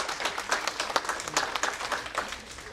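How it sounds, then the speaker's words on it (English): A crowd claps for teachers at a speech event, a brief, moderately loud burst of uneven applause with a few sharper individual claps standing out. "Please, big round of applause to all the teachers."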